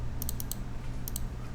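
Light mouse clicks while working in SketchUp: a quick run of four faint, crisp taps, then two more, over a steady low room hum.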